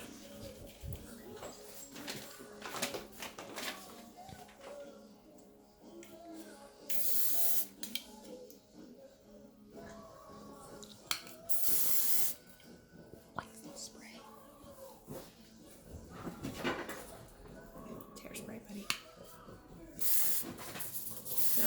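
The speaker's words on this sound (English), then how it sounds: "refine it with a little spray" Several short bursts of aerosol hairspray on a competition hairstyle, each a sharp hiss, spaced apart over quiet rustling and soft handling sounds.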